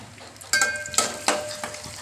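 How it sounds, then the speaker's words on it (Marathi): Garlic dropped into hot oil for a home-cooked dill greens dish crackles in sharp bursts of sizzle, with a utensil stirring and scraping the pan between them. "तेल असं मस्त तापलं की हा लसूण असा आपण टाकायचा आहे त्याच्यात"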